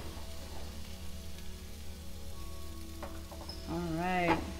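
Vegan crepe batter sizzles in a frying pan, a soft, steady hiss close by under a low hum, with a brief sung or spoken voice rising near the end.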